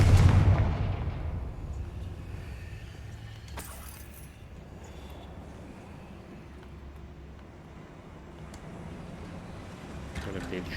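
A Confringo blasting spell goes off in Hogwarts Legacy as a single loud, low explosive boom at the opening. Quieter rumbling and rattling game sounds follow, with a player talking over them.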